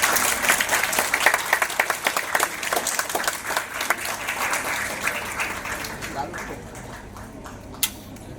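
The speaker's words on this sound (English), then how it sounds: "Can we all have a huge round of applause?" Applause from an audience at a Green Building Week celebration, a dense patter of clapping that swells early, then thins and fades toward the end, with voices chattering underneath.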